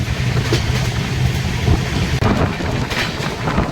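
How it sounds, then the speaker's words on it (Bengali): The Tamralipta Express from Howrah to Digha runs at speed, giving a loud continuous rumble with rhythmic clatter and no talk. "ট্রেন বেশ ভালো গতিতে চলছে"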